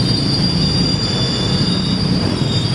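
A local train pulls into Nagreg station, wheels squealing loudly and continuously against the rails over a steady rumble of rolling stock, with no voices present.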